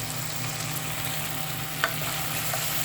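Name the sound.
prawns frying in a pan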